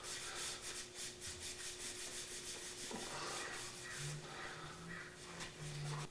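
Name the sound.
rubbing old finish off lamp wood with brake parts cleaner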